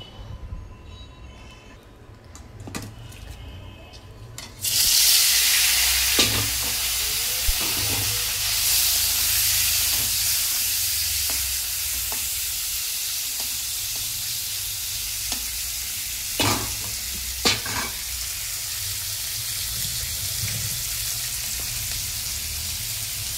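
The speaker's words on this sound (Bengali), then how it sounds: "দেখো মাছগুলো ভাজা হয়ে গেছে, নামিয়ে নিয়েছি।" Fish frying in hot oil in a wok, with a loud, steady sizzle that bursts in partway through and carries on, broken by a few sharp spatters and clinks.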